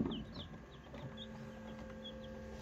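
Ten newly hatched chicks give a scattering of faint, high peeps over a low, steady background hum, the calls brief and spaced apart, heard up close with no voices.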